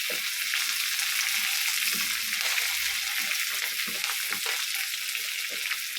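Potato bhaji fries in a hot pan, oil sizzling steadily while a spoon stirs and scrapes through the potatoes in repeated soft strokes, close by with no voices.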